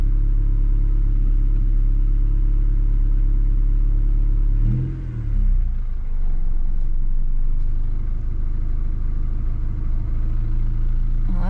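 A Honda Civic engine idles low with a fault causing low idle and dimming lights, a steady close rumble that briefly dips and stumbles midway before settling back to an even drone.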